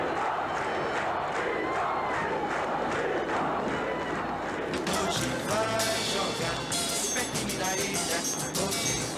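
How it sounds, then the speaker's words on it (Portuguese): Stadium crowd at a 1987 Brazilian Championship football match between Sport and Guarani, a dense roar of fans chanting and cheering that swells louder partway through, with scattered whistles and shouts over the steady din. "A torcida fez muita festa e viu muita festa também no gramado"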